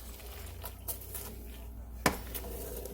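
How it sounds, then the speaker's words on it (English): A spoon stirs complete seasoning and brown sugar in a pan, with soft scraping and light metallic clinks and one sharper clank partway through, close and fairly quiet. "I'm going to go ahead and stir now"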